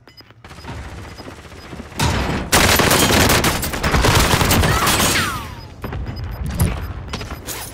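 Gunfire in the video game Call of Duty: Modern Warfare: loud, close bursts of automatic fire and explosive booms come in a dense barrage that swells in the middle, with mechanical clanks between volleys.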